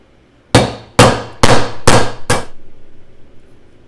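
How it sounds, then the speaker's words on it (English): Five sharp metallic hammer strikes on a socket driving out a needle bearing from a Porter-Cable 7724 portable bandsaw, evenly spaced and loud, each ringing briefly, the last fading out. "First I'm going to tap out the needle bearing, just using a socket here."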